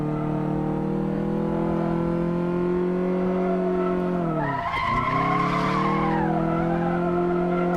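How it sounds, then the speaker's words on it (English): An old rear-wheel-drive car spins its wheels pulling away from idle. A steady engine drone runs throughout, and near the middle a sharp, rising-and-falling tire squeal cuts in for a couple of seconds before settling back. "Oh, we got a little wheel spin off idle."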